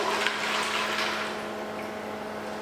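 A thin flour-and-liquid mixture poured steadily into a pasta bake dish, a continuous close splashing and trickling wash that stays even and fairly loud throughout, with no talk.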